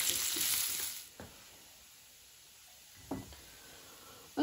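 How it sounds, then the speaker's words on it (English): Dates fry in a pan with a faint, soft sizzle, a brief stir at the start, then quiet crackling interrupted by a couple of light scraping touches. "So I'm gonna fry the dates until they get soft."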